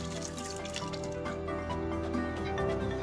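Water poured over freshly planted soil topped with alliums in a balcony garden container, a steady dripping and trickling that runs throughout at a constant level.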